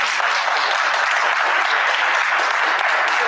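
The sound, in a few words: audience applause for the comic panelists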